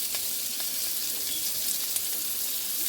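Food sizzles and fries steadily in a pan, a continuous bright crackle with small pops, for a chickpea scramble breakfast with carrot bacon and loaded potatoes.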